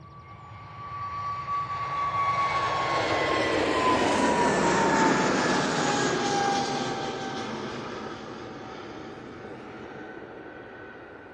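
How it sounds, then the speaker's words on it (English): An Airbus A320neo at Manchester Airport passes overhead, its engine whine rising to a broad roar with a steady high tone, then slowly fading away. "there's this A320 Neo"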